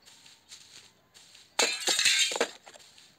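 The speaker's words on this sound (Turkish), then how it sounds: "Camı kır o gelir." Glass breaks in the video game Hello Neighbor: a sudden loud shatter followed by scattered tinkling shards, after a few softer game sounds.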